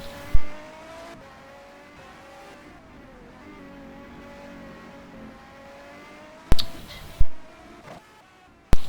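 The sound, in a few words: race cars doing a fast lap in a racing video game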